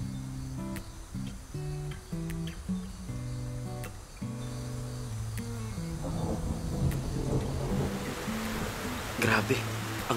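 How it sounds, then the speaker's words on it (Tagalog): Heavy rain pours in a steady rushing wash while people talk over it, the downpour growing louder toward the end. "Grabe, ang lakas pa rin ng ulan."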